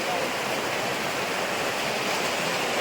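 Heavy rain falling outdoors during a monsoon downpour makes a dense, steady roaring hiss that stays loud and unbroken throughout, with no clear voices.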